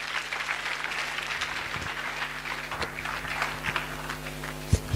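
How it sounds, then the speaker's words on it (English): Audience applause at a school event at Maseno School, a dense wash of clapping from a crowd in a hall, steady and moderately loud for several seconds with a few sharper thumps near the end. "Let's give him a better applause."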